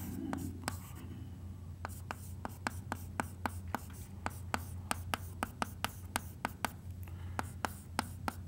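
A quotient is written by hand in a box during a geometry lesson, giving quiet, rapid pen or chalk taps and strokes in a steady irregular rhythm over a soft room hum, close and faint.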